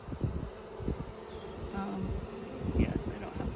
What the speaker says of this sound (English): See the bees that are fanning?